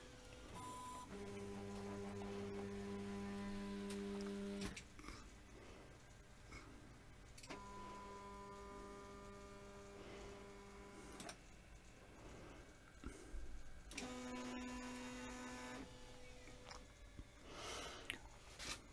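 A multi-axis 3D printer homes its X and Y axes, stepper motors whining in sustained tones over three separate moves with pauses between them, close and moderately quiet.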